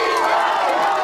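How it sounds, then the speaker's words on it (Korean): A festival crowd applauds and cheers after a gugak-trot singer's stage at the 56th Jinhae Gunhangje, a dense, steady wash of clapping and voices throughout. "다시 한번 큰 박수 부탁드립니다"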